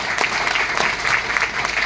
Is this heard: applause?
yes